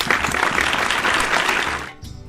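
An audience claps at a 75th-anniversary celebration, a dense burst of applause that rings out loudly for about two seconds and then stops abruptly.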